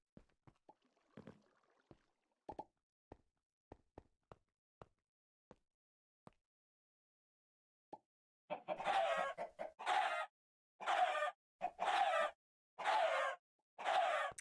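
Minecraft chickens from the modded StoneBlock 3 pack cluck in a nearby pen; a series of sparse short clicks gives way to loud, repeated bursts of clucking and squawks.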